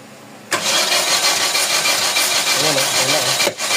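A Mitsubishi Fuzion with a 4G64 engine cranks hard for about three seconds as it tries to start, loud and close. It begins and cuts off abruptly, with quiet before and after.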